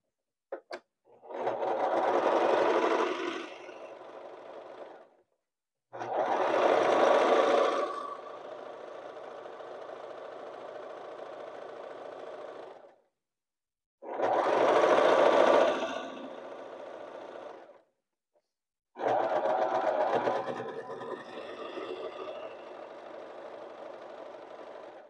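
A sewing machine stitches a pillowcase in four separate bursts, each a loud, fast mechanical whir that tails off and stops, with short silent pauses in between.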